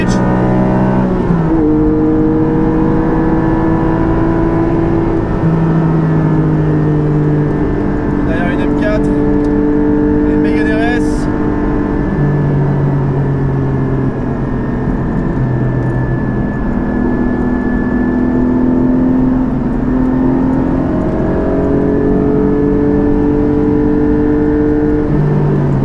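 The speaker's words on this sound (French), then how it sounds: "Et le son de la ligne Akrapovic" A Porsche 718 GT4 with its mid-rear engine and Akrapovic exhaust line at Spa-Francorchamps revs and drones loudly, pitch rising and falling through several throttle sweeps, with brief sharp crackles and a voice speaking over it at times.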